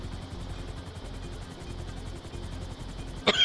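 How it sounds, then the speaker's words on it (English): A helicopter in a multiplayer video game makes a steady, close rotor drone with rapid regular chopping, holding throughout and ending in a brief louder burst. "I found another chopper."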